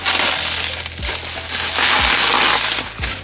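Loud, close crinkling and tearing of stiff packaging around a trading card, continuous rough crackle with a few heavier thumps as it is pulled open.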